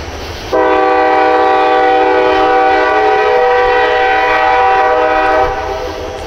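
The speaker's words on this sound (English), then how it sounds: "And then I freaking hear a train coming by." A passing train blasts a loud, sustained multi-tone horn right nearby at night, holding steady for about five seconds before fading slightly, over a rumbling rail background.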